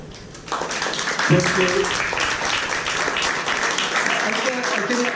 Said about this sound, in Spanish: de veras un aplauso a la doctora